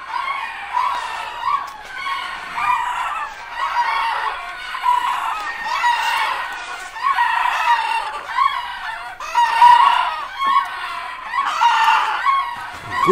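Roosters crowing over and over at a rooster crowing contest in Zingem, Belgium, with loud overlapping crows and clucks from several birds close by, nearly continuous across the whole stretch.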